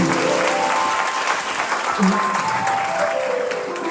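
An audience claps loudly and continuously for several seconds, dense applause with voices mixed in underneath.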